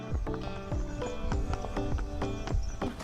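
Shetland pony hooves clip-clopping in a steady walking rhythm, close and moderately loud, with a faint background hum and no talk over it.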